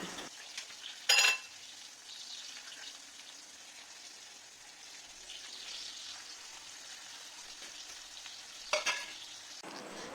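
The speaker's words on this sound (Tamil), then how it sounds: "கருவேப்பிலை, கொத்தமல்லி, நம்ம கழுவி வச்சுருக்க புதினா எல்லாமே சேர்த்து நல்லா வதக்கணும்" Mint, curry leaves and coriander sautéing in a pan give a quiet, steady sizzle, broken by two short bursts of sharper crackling as the greens are stirred or added.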